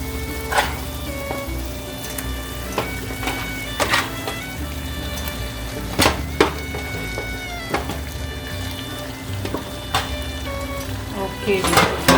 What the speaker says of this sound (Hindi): तो इसको हम अभी इसमें बीफ डालने लगे।